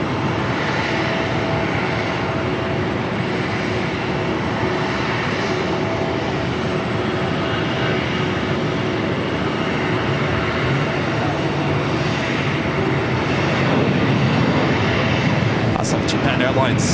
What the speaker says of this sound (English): This is Skylace Cargo, 747-400 freighter